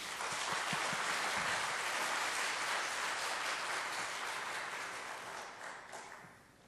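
A church congregation applauds to welcome a visiting pastor at a mission society dedication service: dense, steady clapping from a full room that holds for several seconds, then gradually thins and fades out. No voices rise above it.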